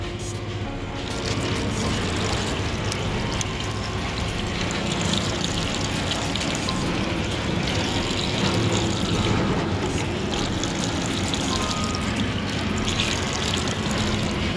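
Water drawn from a fridge pours and gushes steadily for a long stretch, loud and close, in a hot indoor setting with no talking.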